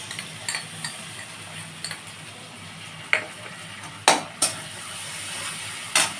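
Garlic paste and a ginger-cumin paste fry in a pan with a soft, steady sizzle, broken by several sharp clinks of a utensil against the pan; no voices.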